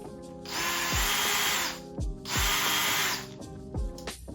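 Power drill run in reverse to back fasteners out of the risers on a Honda Shadow Spirit motorcycle, two long whirring bursts with short gaps and lighter clicks in between, loud and close with no talking.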